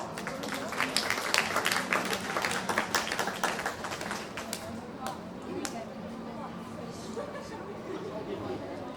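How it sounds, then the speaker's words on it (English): Stadium crowd applauding before a women's junior hockey match between Singapore and Chinese Taipei, loud and dense for the first few seconds, then thinning into scattered claps and chatter. "Give them a round of applause."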